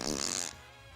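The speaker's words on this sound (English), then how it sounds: "You're farting." A short, loud flatulent burst fills the first half second, then trails off into a quieter tail, heard alone without speech.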